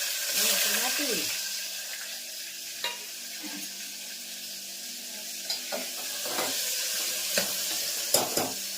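Stuffed bitter gourds coated in gram flour fry in oil in a pan, a continuous close sizzle with occasional clinks and scrapes of a spatula, and a voice talks briefly near the start.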